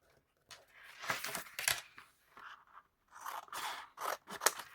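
Scissors snip and crunch through card to cut a chunk off a papercraft chocolate orange box, with several separate cutting bursts and short pauses between them, close and fairly quiet.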